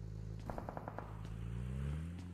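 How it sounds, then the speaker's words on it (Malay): A rapid burst of about six gunshots rings out during a PUBG Mobile tournament match on the Miramar map, crisp and fairly close over a steady low engine-like drone. "Ada satu tembakan ke arah atas bukit ini dan itu adalah AE"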